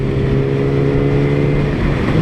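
A 2019 Yamaha R6 sport motorcycle with an Akrapovic exhaust runs under power, its engine holding a steady, loud droning tone close by, with no voices over it.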